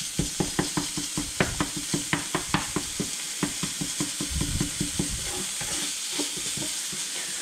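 Lean bison meat sizzles in a hot pan while a utensil stirs and scrapes it in a quick, regular rhythm of sharp clinks, the taps slowing and fading near the end as the steady frying hiss continues.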